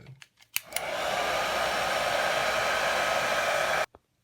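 A heat gun blasts steadily and loudly for about three seconds while shrinking heat shrink tubing over spliced wires during a radar detector wiretap install, after a few brief clicks, then cuts off abruptly.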